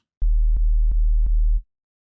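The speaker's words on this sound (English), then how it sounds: "we just get a bunch of sine waves." Stacked sine-wave oscillators in the Serum synthesizer, all starting in phase, produce a loud, deep, pure bass tone. It lasts about a second and a half, with four or five faint clicking pulses at regular intervals before cutting off.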